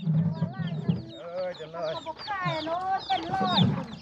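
A barred (striped) rooster clucks and calls nearby on a farm, giving a busy run of loud, overlapping squawking clucks with no pause.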